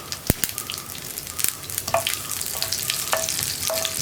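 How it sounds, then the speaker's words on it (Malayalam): Sliced onions hit hot oil with popping mustard seeds in a pan, giving a steady close sizzle broken by sharp crackles and pops, with a few metal stirring clinks and no talking. "കടുക് പൊട്ടി വരുമ്പോഴേക്കും ഒരു 3 ഉള്ളി റൗണ്ടിൽ കട്ട് ചെയ്ത് വെച്ചിട്ടുണ്ട്, അത് ചേർക്കുന്നുണ്ട്"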